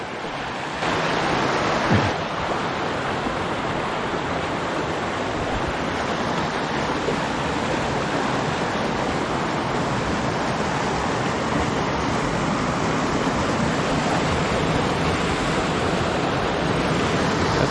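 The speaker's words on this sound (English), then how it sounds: "I'm gonna just go down and have a look at this little waterfall here." A small waterfall at a campsite at Westbrook Falls, a loud, steady rushing wash of falling water that continues unbroken throughout, heard close and alone.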